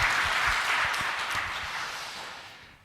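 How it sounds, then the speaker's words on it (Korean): A short burst of congregation applause at a Christmas Day mass in a church, a dense patter of many hands that fades out over a few seconds, with no talking. "박수 함께 칠까요?"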